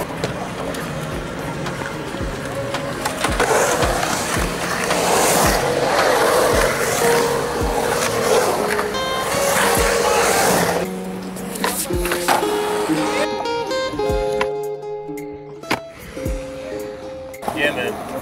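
Skateboard wheels roll and clack around a skatepark in Corbas, with rumbling rolls, sharp board impacts and bursts of movement, while people talk and call out nearby over the action.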